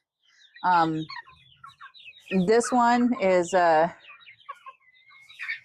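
Chicks and young roosters on a free-range flock let out a few loud, harmonic clucking and crowing calls in short bursts, close by, with a person speaking briefly among them.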